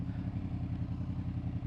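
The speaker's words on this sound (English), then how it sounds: "May as well show you the Black Widow exhausts as well. Got some nice meaty noise from there." A Honda VFR 800 with VTEC idles through Black Widow exhausts, giving a deep, throbbing, evenly pulsing burble at close range, fairly quiet and steady.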